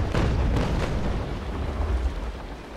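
Ship cannons firing in the naval combat game Naval Action, a few deep booming blasts in quick succession that fade into a rolling low rumble.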